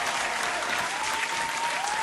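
Steady, dense applause from a crowd gathered for a sermon, continuous and loud throughout without a break.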